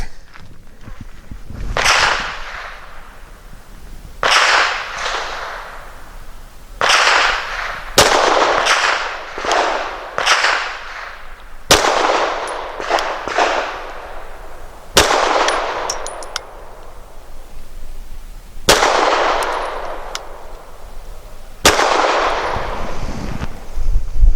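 Grand Power Q100 pistol fired with Nosler Match Grade 115 grain hollow-point ammunition at an indoor range: about ten sharp, loud cracks spaced a second or two apart, some in quick pairs, each ringing with a short reverberant tail.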